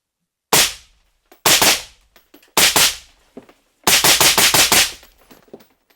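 Close, sharp rifle shots from a gun fitted with a flow-through suppressor ring out in several loud volleys: single cracks, then a quick string of rapid shots, each followed by a short decaying echo.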